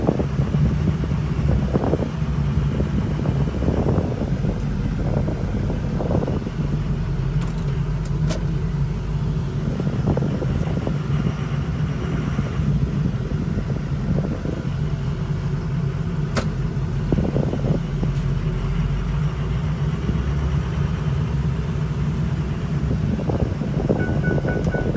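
A 2006 Ford F-250 Super Duty pickup drives along, its engine rumbling steadily with wind rushing past and the revs swelling at a few moments.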